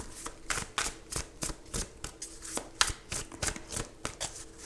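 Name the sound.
tarot cards being handled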